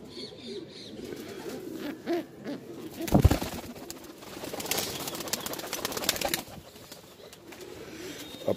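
Punjabi pigeons cooing softly in a loft, faint low repeated coos with rustling and handling noises, and a sharp thump partway through.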